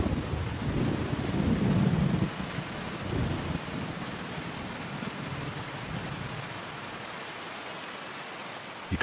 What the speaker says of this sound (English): Rain sweeps in and brings mist with it.